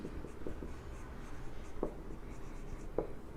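Strokes of writing on a board during a chemistry lecture, with soft scratchy taps and a couple of sharper knocks over a low room hum, no talking.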